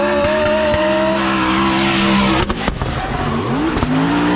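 A drift car at full throttle on a competition course, its engine roaring loud and close with rising and falling revs as tires squeal, plus a brief rattling break partway through.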